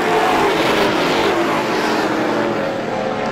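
Pro stock race cars roaring around the Star Speedway oval during a heat race, a loud continuous engine drone close by that fades slightly as the pack moves on.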